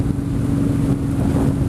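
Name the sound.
motorcycle riding on a country road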